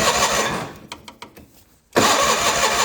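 A John Deere 420 gasoline tractor engine, burning lots of oil, makes a hard cold start: a loud running rumble fades into a few separate cranking chugs, then the engine abruptly fires and roars back up, all close by.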